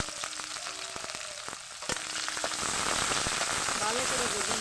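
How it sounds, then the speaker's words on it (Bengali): Onion, garlic and green chillies fry in hot oil with bay leaf and cumin, a steady crackling sizzle that grows louder and denser, with a few sharp utensil knocks early on. "পেঁয়াজ রসুন ভালোভাবে ভাজা হয়ে গেছে"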